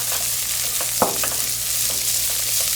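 Red curry paste and ginger fry in a pan with a constant loud sizzle while a utensil stirs and scrapes, including one sharp knock against the pan, with no talking.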